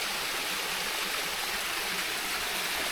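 A river stream rushes and burbles steadily through a quiet misty valley on a hiking trail, a dense, continuous water noise close by with no talk.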